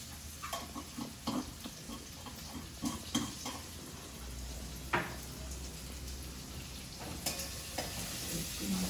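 Spices frying in hot oil for a capsicum potato curry, a steady close sizzle broken by repeated scraping and clinking stirs of a spoon against the pan, with no talking.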